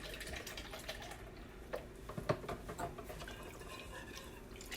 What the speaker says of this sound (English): And I'm going to add another cup of milk.